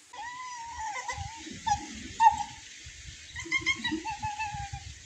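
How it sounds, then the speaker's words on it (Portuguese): A trapped puppy whimpers and whines in high, drawn-out cries several times, close by and fairly clear, with faint rustling underneath. "um cachorrinho preso."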